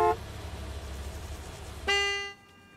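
A car horn honks in Gas Station Simulator: a short blast at the start, then a louder, longer honk near the end that cuts off over a low rumbling game ambience.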